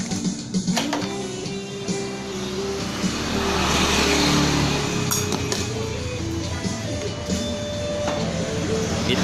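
A Honda Beat ESP scooter engine with an engine-temperature sensor fault, idling roughly with uneven sputtering pops and mechanical clatter, close and steady, swelling slightly midway.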